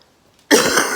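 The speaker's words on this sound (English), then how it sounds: "I still got a cough, but it's okay." A single harsh cough from a person recovering from an illness bursts out after near silence, loud and close, with a rough noisy tail lasting about half a second.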